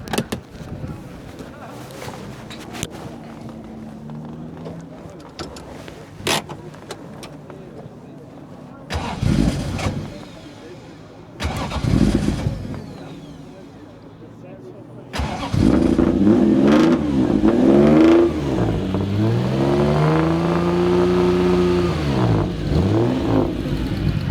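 A car engine cranks and fires, then settles into a deep, loud idle with occasional revs; voices talk nearby at the start.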